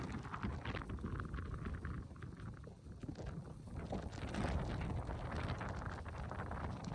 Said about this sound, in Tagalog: Kaya malakas hangin pa yan